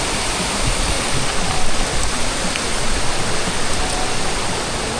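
Ocean waves washing in at a shoreline fishing spot, a steady broadband roar of surf with slight swells in loudness, close and continuous without speech.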